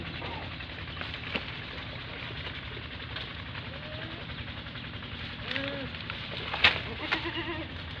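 A dairy goat of the Tota-faced breed gives a few faint, short bleats amid steady outdoor background noise and murmuring voices, with a brief sharper sound near the end.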